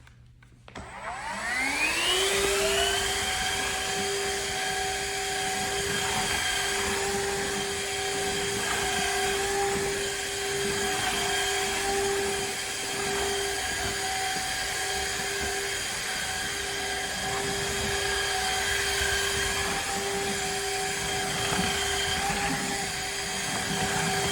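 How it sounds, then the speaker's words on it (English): A Shark HydroVac cleaner spins up, then holds a steady high-pitched whine and whirring drone while vacuuming and mopping a floor at once, close and continuous for the whole stretch, with no one speaking. "So this is the Shark HydroVac. What it does, it vacuums and mops your floors at the exact same time."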